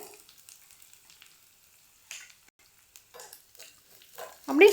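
Mustard seeds splutter and crackle in hot oil with curry leaves and green chillies, scattered soft pops building to a louder burst of sizzling at the end, heard alone.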